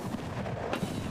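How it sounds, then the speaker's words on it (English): Gunfire strikes the player in Escape from Tarkov, a dense, muffled barrage of low booming shots and impacts that rumbles continuously through the short moment. "I'm getting shot."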